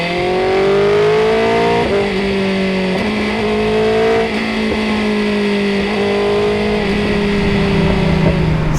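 BMW S1000R 2025 motorcycle revving high while riding, a loud close engine whine climbing in pitch through several gear shifts, with no talking.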